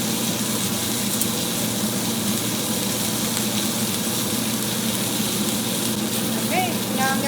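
Steak sizzles loudly and steadily in a pan with thyme and rosemary added, a constant close-up crackle with occasional higher pops.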